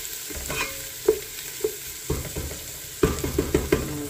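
Garlic sizzles softly in a pan while a spoon stirs it, giving repeated light scrapes and taps against the pan, close up with no talking.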